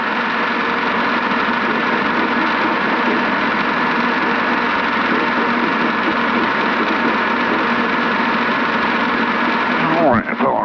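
Robinson R22 helicopter piston engine running steadily at an airfield during an autorotation training flight, a loud continuous droning hum with rotor wash that shifts briefly near the end.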